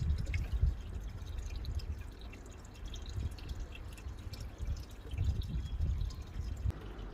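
Water drips from a test stick just dipped in a garden pond, soft irregular drips and splashes at close range over a low rumbling background, with no voices.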